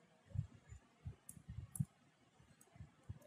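Keyboard typing with soft, irregular clicking keystrokes in quick bursts and short pauses, quiet and close, with no voice.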